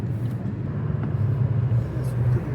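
A car driving on a snowy winter highway from Quebec City toward Montreal, a steady close low engine and road rumble inside the cabin with no pauses.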